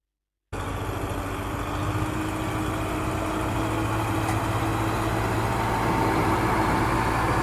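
A blue tractor's engine starts up abruptly and then idles steadily with a loud, even mechanical rumble that grows slightly louder toward the end.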